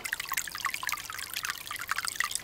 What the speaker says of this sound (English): This creek came out of the ground right over there.